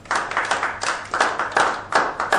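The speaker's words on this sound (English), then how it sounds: "Sab log clap." Audience clapping on a TV serial set as a performer walks to the stage, a fairly small group clapping in loose rhythmic bursts, close and moderately loud.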